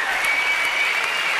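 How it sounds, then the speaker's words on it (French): Dense, steady applause from a crowd fills the whole stretch, loud and even with no breaks. "Bonne soirée à vous, applaudissements."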